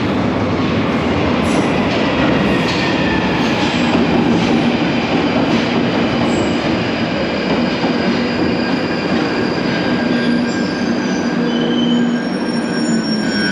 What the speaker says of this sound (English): This train is for High Barnet.